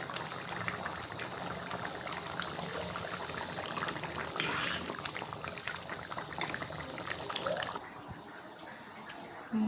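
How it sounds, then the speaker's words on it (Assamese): A pot of fish curry bubbles and boils steadily, a dense close bubbling with faint clicks, dropping slightly in level near the end. "উতলি আছে মাছৰ আঞ্জা।"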